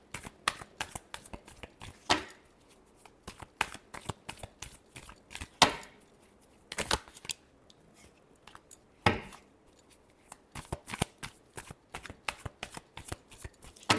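Tarot cards are shuffled by hand in rapid bursts of crisp riffling and slapping, repeated continuously and heard close-up with no talking.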